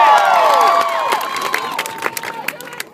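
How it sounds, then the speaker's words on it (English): Crowd of students applauding and cheering for a classmate called up in front of a school gathering, dense clapping and shouts fading somewhat over a few seconds. "Another round of applause, please"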